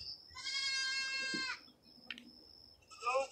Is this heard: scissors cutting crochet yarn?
no